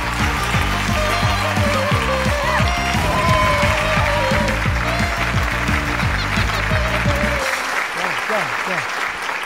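A theatre audience at a comedy sketch show claps loudly and continuously for several seconds while rhythmic stage music plays underneath, and the clapping fades as the music stops near the end.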